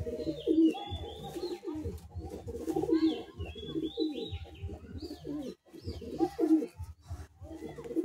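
Pigeons of a Madrasi breed coo repeatedly in low, throaty bursts close by, with occasional higher chirps between the calls and no talking.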